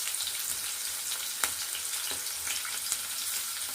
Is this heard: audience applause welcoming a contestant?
no